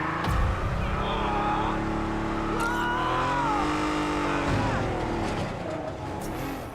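A car drives through New York in Marvel's Spider-Man video game, its engine droning and revving loudly and continuously with shifting pitch, and a faint voice mixed in.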